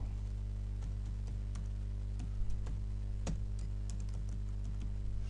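Typing on a computer keyboard while entering C++ code, soft scattered keystroke clicks over a constant low electrical hum, no voices.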